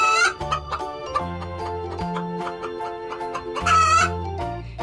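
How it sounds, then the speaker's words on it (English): A farmyard chicken clucks and a rooster crows, two loud bursts at the start and near the end, set against looping background music. "C-H-I-C-K-E-N,"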